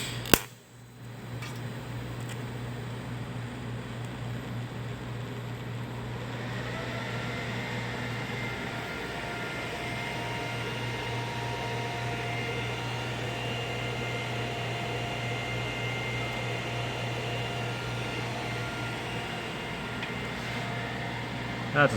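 TIG torch fitted with a Superior Welding unbreakable TIG cup laying down a small tack weld, a steady hiss with a constant hum running alone for about twenty seconds, close and moderately loud.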